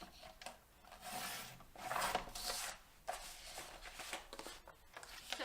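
Patterned paper for a greeting card trimmed on a paper trimmer, with several soft scraping, sliding strokes in bursts close by and no talking.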